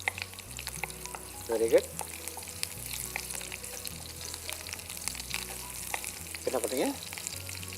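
Curry leaves sauté in oil in a pan for dried fish thokku, a soft continuous sizzle and frying hiss with occasional stirring scrapes, faint and close, while people talk over it.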